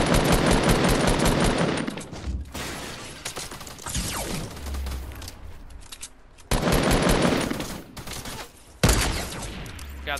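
Rapid automatic gunfire bursts in a shooter video game, loud dense volleys separated by short quieter gaps, with a final sharp burst near the end and no talk over it.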